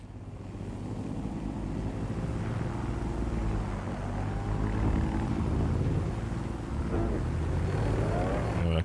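A delivery drone flying in the game Watch Dogs Legion, a continuous whirring, droning hum of rotors with engine-like tones that swell slightly midway, steady and close throughout.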